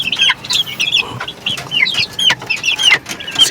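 A mother hen and her chicks in a small backyard pen, close-up clucking and high peeping chirps bursting out in quick, overlapping calls.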